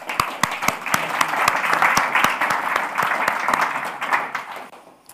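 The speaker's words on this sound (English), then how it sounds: "So give them a round of applause." Conference audience gives a round of applause at a keynote, steady dense clapping from a sizeable crowd with a few sharp nearby claps standing out, holding throughout and thinning slightly at the end.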